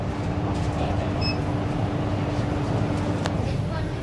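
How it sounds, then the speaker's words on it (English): Steady low rumble of a Virgin Trains passenger service heading for Milton Keynes Central, a continuous interior drone with a faint hum and a few brief high squeaks, heard from inside the carriage with no talk. "As we're back on the Virgin train service back to Milton Keynes Central."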